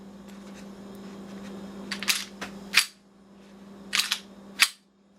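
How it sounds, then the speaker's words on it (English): A gun is cocked one-handed against a homemade tactical belt, giving a few sharp metallic clacks and snaps in two close bursts over a low hum, with no talk. "Now let's test if we can crank the gun using the belt, one hand."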